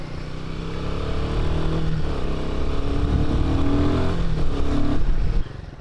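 A Royal Enfield Himalayan 450 with its Sherpa engine is ridden on the road, a loud continuous engine note rising and falling through the gears with wind noise, then dropping off abruptly near the end.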